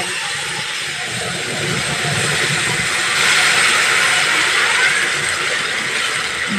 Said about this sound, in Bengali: দিয়ে যে পেঁয়াজ, টমেটো, কাঁচা লঙ্কার যে পেস্ট বানিয়েছি, এবার এখানে আমি দিয়ে দিলাম।